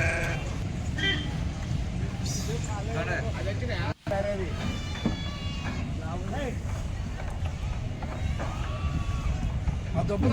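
Sheep bleat repeatedly with wavering, nasal cries over a constant rumble of background noise and indistinct voices.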